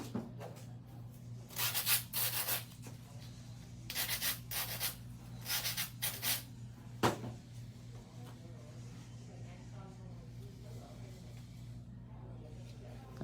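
A 100-grit nail file rubbing on acrylic nails in a salon, several bursts of close, rough rasping strokes in quick rhythm, then quieter background hum afterward.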